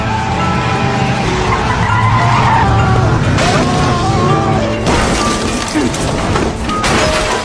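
A car skids with squealing tires and crashes on a winding mountain road, loud and continuous with heavy engine roar, grinding and impact noise throughout, and a voice faintly mixed in.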